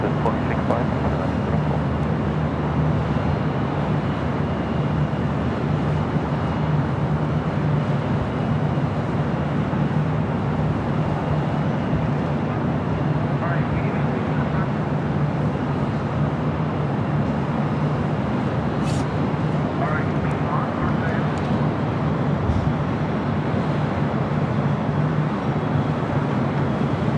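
An Asiana airliner crosses runway 24 left at LAX, heard as a steady, distant low rumble of jet engines that holds evenly throughout, with a few faint higher tones above it.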